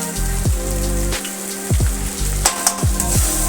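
Fish frying in a pan with turmeric powder and salt, a steady close sizzle broken by several sharp scraping stirs.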